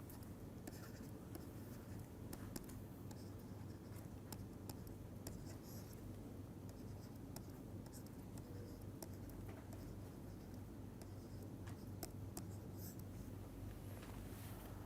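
Chalk or marker scraping and tapping on a lecture board runs steadily for about fifteen seconds as faint, scratchy strokes and ticks over a constant low hum.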